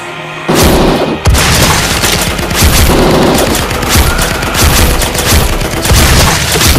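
Guns fire in a sci-fi audio drama: a loud boom opens a rapid, dense volley of blasts and rattling shots that continues without pause, close and forceful.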